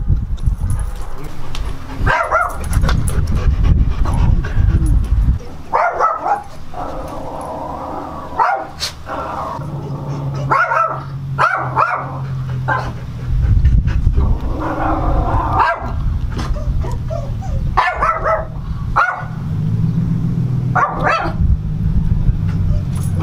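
A pitbull husky mix barks in loud, repeated bursts with panting and whimpering between them, close up, while people talk over and around the dog.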